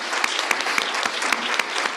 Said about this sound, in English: And a round of applause for Libby.